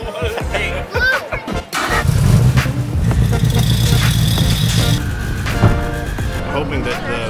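A car does a burnout at a gender reveal at SpeedFactory Racing, its engine revving hard and roaring loudly and close for several seconds, with voices in the crowd mixed in.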